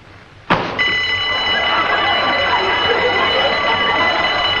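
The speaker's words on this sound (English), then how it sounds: "That was a burglar alarm." After a sharp click, a burglar alarm bursts into a loud, continuous electric ringing that holds steady without pause until the end.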